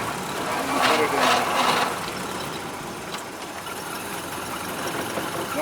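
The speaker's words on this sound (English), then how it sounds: "Put it in neutral, let the clutch out, rev the engine, and then put it in." A Ford Model A engine revs up and settles back during a double-clutch gear change, a brief swell of mid-range engine noise over a steady idle, close and moderately loud.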